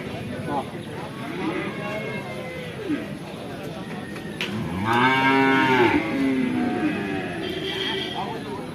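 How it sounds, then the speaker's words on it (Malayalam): A buffalo gives a long, loud moo nearby amid busy livestock market noise, with people talking in the background and other animals calling. "എരുമ എരുമണ്ട് കേട്ടോ വലിയ എരുമ എന്നുണ്ട്"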